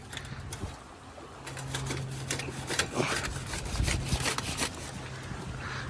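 A utensil scrapes and digs wet sand out of a small skiff beached on a sandbar, giving repeated gritty scraping strokes at close range with no talking.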